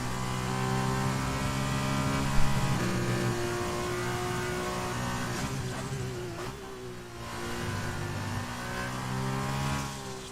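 An F2 race car in a racing video game lapping Spa-Francorchamps, a steady droning engine note with shifting pitch as it accelerates and changes gear, loud and continuous with no talk.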